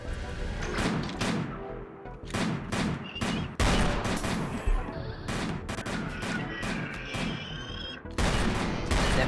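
Dense, continuous gunfire in a video game, with sharp shots crowding the whole stretch as defenders blast an approaching creature, loud and close with faint voices beneath.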